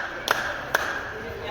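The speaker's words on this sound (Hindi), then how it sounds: "ये डायमंड कट जो दिख रहे हैं उसी से आवाज़ इको हो रहा है।" Two sharp hand claps ring out about half a second apart at the echo point of Golconda Fort in Hyderabad, bouncing off diamond-cut stone walls, each a crisp close snap with a short ringing tail.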